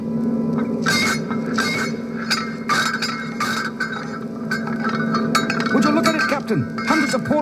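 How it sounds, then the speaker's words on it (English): Switched-off robots clink and clank against one another in a run of sharp metallic hits, with a steady hum underneath and warbling tones late on, from a 45 RPM record. "turned-off robots just clinking and clanking against each other"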